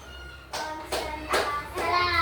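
Children in a physical education class play a counting clapping game, producing four sharp group claps in a steady beat over the sound of young voices.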